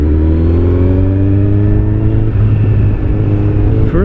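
A Kawasaki Z900 motorcycle fitted with an Akrapovic exhaust runs close by, its engine holding a loud, steady, deep drone with only slight rises in pitch throughout.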